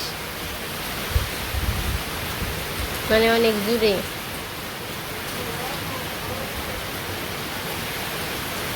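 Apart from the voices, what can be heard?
heavy rain with strong wind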